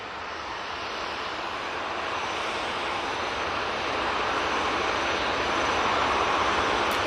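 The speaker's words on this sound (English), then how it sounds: "We do have that arrival now coming into view, so let's go down to the bottom. It's the Eurowings, coming in from Dusseldorf." A Eurowings airliner arriving from Dusseldorf at Manchester Airport approaches with a broad, rising engine roar that swells steadily louder and closer throughout.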